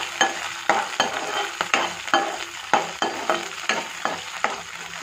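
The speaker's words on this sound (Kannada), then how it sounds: "1 ನಿಮಿಷ ಫ್ರೈ ಮಾಡ್ಕೊಳ್ತೀನಿ." Fresh green peas sizzle in a hot spice tempering, with a steady frying hiss broken by regular scraping strokes of a spoon stirring them in the pan, close and clear.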